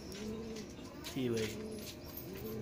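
Fancy pigeons coo in soft, rolling, repeated calls close by, while someone speaks briefly over them.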